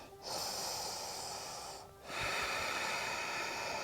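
Deep breathing during a vinyasa power yoga stretch, two long, airy breaths drawn in close to the microphone, the second starting after a short pause, steady and fairly loud.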